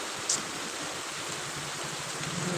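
Rainwater flows through a flooded street, a continuous broad rushing wash like a stream, steady and moderately loud with no voices.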